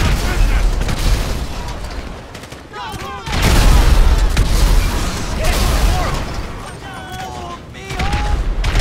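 A grenade launcher fires and blasts go off during a Grand Theft Auto V mission at a business, with repeated booming explosions and gunfire crackling over several seconds while voices shout underneath.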